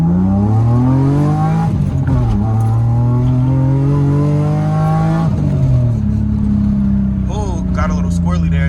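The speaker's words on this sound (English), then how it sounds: "Let's rev it up to about 2K, dump it." A BMW E30 engine revs loudly to around 2000 rpm, then the car launches, its engine pitch climbing through gear pulls with sweeping harmonics. The sound is close and strong throughout, and a voice can be heard over part of it.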